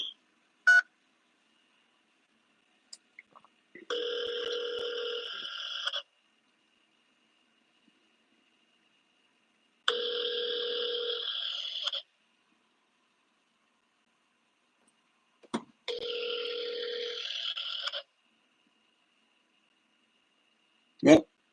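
Unanswered telephone ringing heard through a phone line: three evenly spaced electronic ring bursts, each about two seconds long, separated by silent gaps, faint and alone with no talking.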